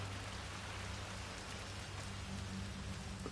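Rain falling in the video game Hitman 3, a dense, steady patter of drops on surfaces with a constant hiss and no voices over it.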